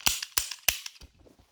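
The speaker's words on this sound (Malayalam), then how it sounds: "എന്തായാലും ചത്തിട്ടില്ലെങ്കിലും 3 വെടി വയ്ക്കാം" Three sharp gunshots crack in quick, evenly spaced succession, fairly faint, followed by a softer thump and quiet.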